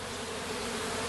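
A honeybee swarm gives a dense, continuous buzzing drone, loud and close, with no voices.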